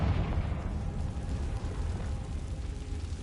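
A Confringo fire spell from Hogwarts Legacy bursts in a dense, steady low rumble that holds for a few seconds and slowly fades, with no voice over it.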